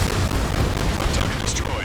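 A target explodes in the Ace Combat 7 video game: a loud, dense, continuous roar of blast and rumble fills the short moment, with a voice speaking over it.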